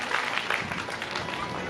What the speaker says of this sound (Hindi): एक बार इंजीनियर साहब के लिए भी जोरदार तालियां